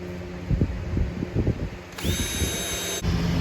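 Power drill boring a partial hole with the drill bit supplied in a Milescraft circle guide kit for a router, short whirring bursts pulsing, then a sustained high-pitched spin, close and alone.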